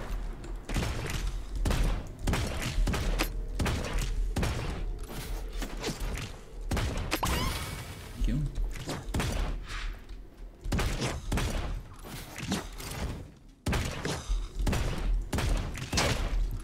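Dense, rapid gunfire from the video game Realm Royale, loud bursts repeating almost without pause for many seconds, with short gaps and a few mechanical clanks between volleys.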